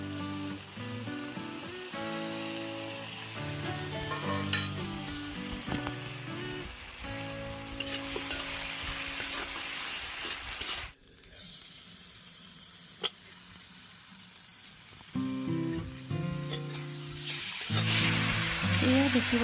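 Chopped tomatoes are added to fish frying in a pan, making a dense, continuous sizzle that fades briefly to a quieter hiss midway before surging again. A tonal background hum runs underneath.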